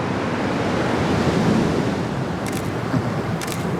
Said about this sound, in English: It's very easy to shoot waves in Fiji. The waves are so nice here.